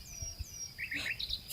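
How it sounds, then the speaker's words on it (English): Small birds chirp at a cafe in a quiet ASMR ambience, a few faint high tweets scattered over soft background noise. "the sound of the birds"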